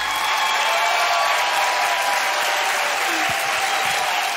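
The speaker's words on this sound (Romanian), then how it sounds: "Haideți, vă rog, să o aplaudăm pe Ana Morodan." Steady, dense applause from the audience at a comedy roast of Ana Morodan, a loud continuous wash of many hands clapping together that holds unbroken throughout.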